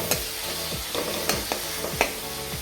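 Chopped tomatoes and onions sautéing for a mushroom gravy, a rapid sizzle broken by regular spatula scrapes about every half second, close and alone.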